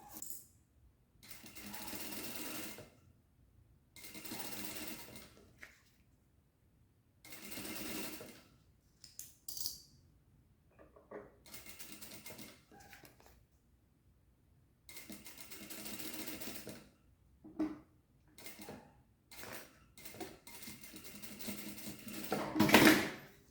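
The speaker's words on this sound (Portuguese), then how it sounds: "agora passo uma costura de segurança, fixando este zíper na peça." A sewing machine stitches a zipper onto a bag in repeated bursts of rapid mechanical whirring, each run lasting a couple of seconds and separated by pauses with small handling clicks, close and fairly quiet.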